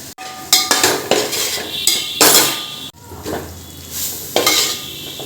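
Turmeric, coriander and chili powders are stirred into frying vegetables for veg biryani: loud, close bursts of spatula scraping against the pan over a steady sizzle, with occasional metallic clinks.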